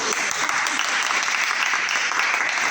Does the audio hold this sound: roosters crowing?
no